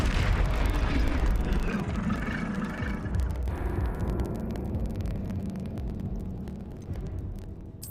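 A fiery spell blast in the wizarding game Hogwarts Legacy, a loud rumbling explosion that rolls on and slowly fades over several seconds, with crackling debris and no speech.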